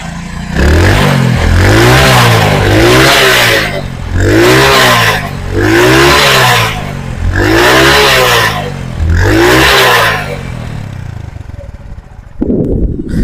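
A Honda CD80 motorcycle in fresh original condition revs repeatedly, its small single-cylinder engine rising and falling in about six even, loud bursts before dropping back to idle, with a brief clunk near the end.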